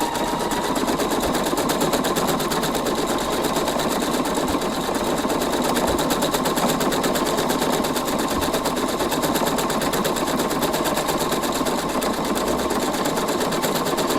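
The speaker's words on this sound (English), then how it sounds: "So now I start to stitch. Now the whole time it's stitching, I'm just keeping this line parallel" Husqvarna Viking embroidery sewing machine stitching lettering, a fast continuous rattling needle rhythm that stays loud and even throughout.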